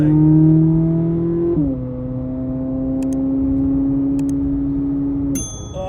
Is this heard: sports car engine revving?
yes